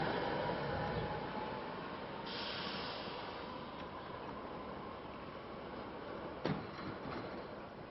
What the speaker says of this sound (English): we have an R1 train approaching Elkins Park, where he'll be making a stop, heading for the airport